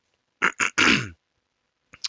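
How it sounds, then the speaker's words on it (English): A man with flu coughs hoarsely in a close, dry burst of three quick coughs, then falls silent before two short, fainter coughs at the end. "I really am sorry for the coughing, by the way."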